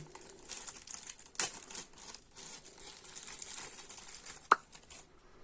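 Plastic bag holding a scale figure's alternate face being opened, with soft continuous crinkling close up and two sharp louder tearing snaps.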